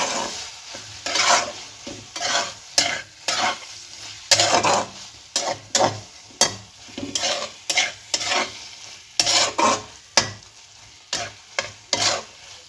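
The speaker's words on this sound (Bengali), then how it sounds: "দিয়ে ভালোভাবে মিশিয়ে নেব" Banana flower curry mixed with ghee in a pan. A spoon pushes through the thick mixture in a steady series of close, rhythmic scraping strokes over a low sizzle.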